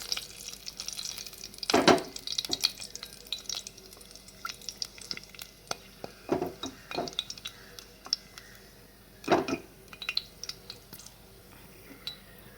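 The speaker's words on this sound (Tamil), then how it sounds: "தாளிப்பு சாமான் எல்லாத்தையும் இதில் போட போகிறோம்." Tempering spices crackle and sizzle in hot oil inside a pressure cooker while making paruppu sadham, a continuous frying hiss broken by several loud metallic clinks and scrapes of a spoon against the pot.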